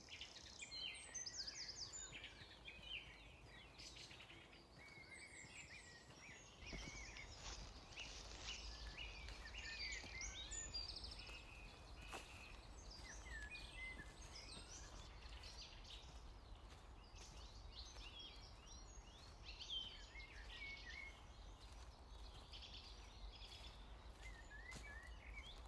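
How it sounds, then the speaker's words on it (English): Several birds call inside a small copse in the Cotswolds, scattered faint chirps and short high phrases over a soft, hushed background, with no voices. "Birdsong sounds different in here."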